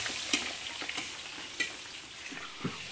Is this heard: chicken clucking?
no